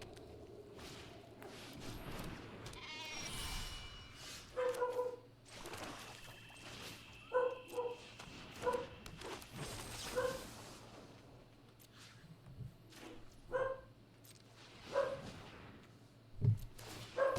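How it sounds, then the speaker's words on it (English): A dog barks in short, scattered bursts around a home, moderately near, with quiet rustling and footsteps between the barks and a voice briefly talking early on. "I don't even know what she's barking at"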